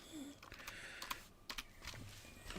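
Typing on a computer keyboard, a quick irregular run of soft key clicks and taps, faint and close, without talk.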